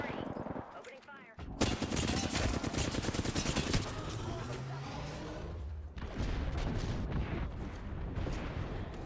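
Sustained gunfire in the video game Apex Legends, dense bursts of shots continuing loudly from a brief quiet start through the whole passage, with a short dip near the middle.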